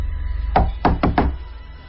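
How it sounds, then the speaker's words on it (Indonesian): Four sharp knocks on a bathroom door, spaced unevenly in a quick run, sound close and loud over a low hum, staged as a radio drama sound effect. "aku mendengar suara ketukan di pintu kamar mandi."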